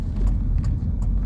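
Cars on an Oregon coast road sound from inside a moving vehicle, a steady low road rumble with a few soft whooshes as other cars pass close by.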